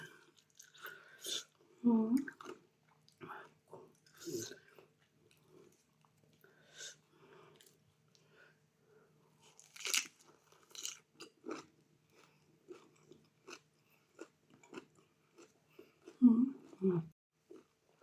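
Someone eating spicy papaya salad with rice noodles, palm seeds and fish-sauce-soaked shrimp, with close, intermittent crunchy bites and chewing sounds separated by quiet pauses and a few soft breaths.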